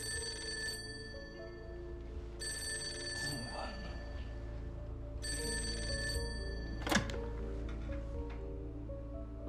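An office telephone rings in repeated electronic bursts with pauses between them, set against a quiet room hum with a brief thump partway through.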